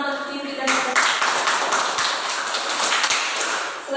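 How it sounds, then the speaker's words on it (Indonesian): Applause for Vivi in a classroom, a burst of many quick overlapping hand claps starting abruptly after a voice and continuing loud and dense to the end. "tepuk tangan untuk Vivi"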